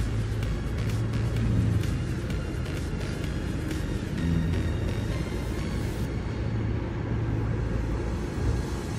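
A bus rolling into the Kebumen bus terminal, a steady low engine rumble that stays fairly loud and close throughout, with a faint squeal and clatter in the background.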